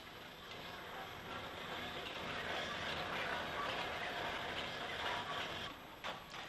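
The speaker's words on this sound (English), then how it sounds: "A former Midland Great Western 240 takes the 1:30 p.m. service from Westport to Dublin out of the station." A former Midland Great Western 2-4-0 steam locomotive pulls a Westport-to-Dublin passenger train out of Claremorris station in 1950s Ireland, giving a steady, dense rumble of engine and rolling stock with no clear beat.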